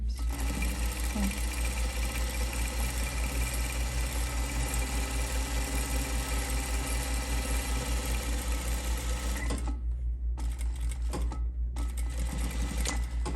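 Sewing machine running steadily as it roll hems the fabric edges of a tote bag, a continuous close whir with brief pauses near the end.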